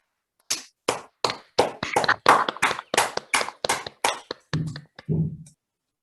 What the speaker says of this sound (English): Please unmute yourself now and applaud the speaker.